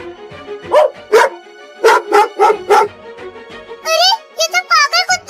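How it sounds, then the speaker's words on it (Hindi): Dogs barking in an animated Hindi comedy cartoon, a loud run of sharp barks followed by rapid high yips, close up, with a voice briefly heard. "अरे ये तो पागल कुत्ते हैं।"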